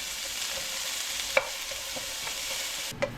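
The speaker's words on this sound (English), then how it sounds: "I'm just cook the ginger down a little bit until it turns like a little brown color" Ginger stir-fries in a frying pan with a steady, moderate sizzle, broken by a couple of sharp utensil taps against the pan.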